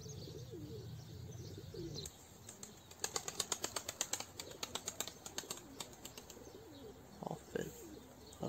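Pigeons taking flight, a dense run of sharp wing claps and flutters in the middle, with soft cooing before and after, fairly quiet and alone.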